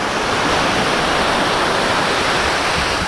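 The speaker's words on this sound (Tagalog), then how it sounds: "Ang lakas kasi ng alon dito eh." Strong ocean waves at a beach in Port Barton, San Vicente, Palawan roar as a dense, constant wash of surf, loud and close with no pauses.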